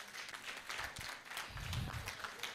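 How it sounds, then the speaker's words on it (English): Applause from the audience at a human rights and law symposium, faint and somewhat distant, a steady patter of many hands clapping with no talk over it. "Can we give these people a round of applause?"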